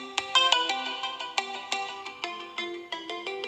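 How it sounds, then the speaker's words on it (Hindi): Realme UI phone ringtone on a Realme 3i running Android 10, a bright plucked melodic tone pattern playing alone, clear and close. "नया रिंगटोन्स और उसके साथ साथ आपको नया नोटिफिकेशन टोन्स भी मिलेगा।"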